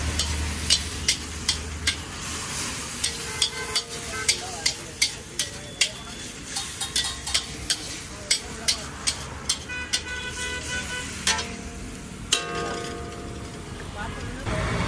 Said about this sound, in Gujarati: જોઈ શકો છો ચટણી પણ આપણે શેકાઈ જાય છે